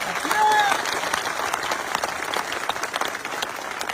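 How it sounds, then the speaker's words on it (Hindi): A crowd at a Jhunjhunu rally gives loud, sustained applause for the district's name, with a short whistle-like tone and crowd noise rising near the start before the clapping settles into a steady roar. "मैं चाहता हूं झुंझुनू के नाम की जोरदार तालियां होनी चाहिए एक बार"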